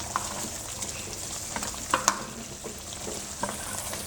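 Mutton masala frying in a pan as it is stirred, a steady low sizzle broken by a few sharp scraping knocks of the spoon against the pan, close by and with no talking.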